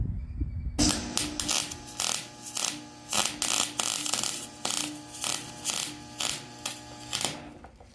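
Arc welding on the rear bumper of a 1970 Dodge D100, a steady crackling, buzzing arc that pulses in short regular bursts for several seconds, close and loud, with no talk.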